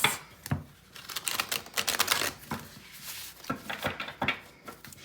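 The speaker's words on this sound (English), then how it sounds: "So I'm gonna shuffle the deck a little bit." A tarot card deck being shuffled by hand, with a run of crisp riffling and slapping card bursts, some brief and some sustained, close and fairly quiet, with no talk.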